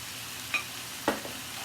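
Vegetables sizzle steadily in a pan for a sofrito base for veal ossobuco, a soft frying hiss with two brief scraping clinks of a stirring utensil.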